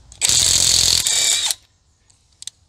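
An INGCO ICWLI2001 cordless impact wrench loosens a nut in one loud, close burst of rapid hammering lasting over a second, then cuts out, followed by faint clicks.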